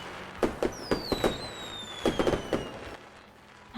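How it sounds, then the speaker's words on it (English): Fireworks filling a night sky as a story sound effect: whistling rockets glide across while a string of sharp pops and crackling bursts comes in two clusters, fairly loud with no talking. "Not long after, fireworks filled the night sky."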